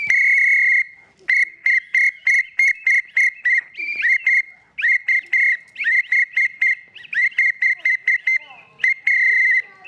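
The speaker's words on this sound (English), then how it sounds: "Get that whistle ready." A shrill whistle blown in rapid rhythmic bursts, short toots strung together with a few longer blasts, loud and close, no talking.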